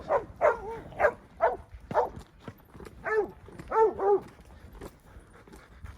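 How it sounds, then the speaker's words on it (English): Ranch dog barking at a horseback ranch, about nine to ten sharp, fairly close barks in an uneven rapid series, with faint background noise. "Good dog."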